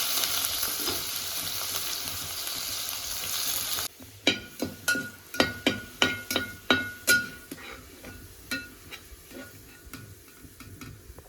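Sliced onion dropping into hot coconut oil while preparing a traditional chicken roast: a broad steady sizzle, then a series of sharp spoon-on-pan knocks and stirring clinks over quieter frying, with no talk.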